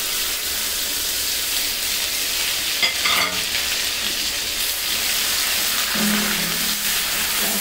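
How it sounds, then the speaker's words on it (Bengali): Onion, green chili and grated ginger frying in butter in a pan, a continuous close sizzle with occasional stirring scrapes and a brief clatter partway through. "এখন এই এটা একটু ভেজে নিব ভালো মতন।"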